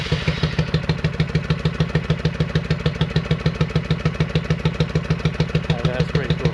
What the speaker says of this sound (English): I've already run this bike, and I'll just start it right now to show you that it runs